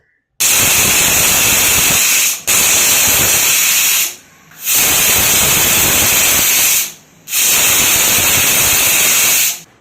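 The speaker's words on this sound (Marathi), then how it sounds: "कुकरचं झाकण लावून घेऊयात आणि 4 ते 5 शिट्टी आपण करून घेणार आहोत।" A home pressure cooker boiling rajma lets off loud, close steam whistles, four long hissing blasts separated by brief pauses.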